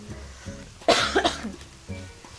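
A single sharp cough bursts out close to the microphone, followed by a few quieter breathy sounds.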